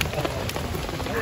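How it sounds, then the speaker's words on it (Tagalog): Heavy rain falls steadily on a campsite at the Balite Hideout in Amadeo, Cavite, a dense continuous hiss and patter filling the whole moment close around the listener. "lumalakas ang ulan"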